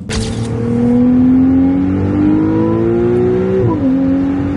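A Ferrari 296 GTB hybrid's 830 hp engine revs loudly and steadily close by, holding a high droning pitch that climbs, then dips briefly near the end.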